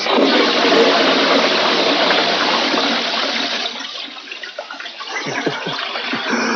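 A porcelain toilet flushes close by, a loud rushing gush of water that tapers after a few seconds into gurgling and trickling as the bowl refills.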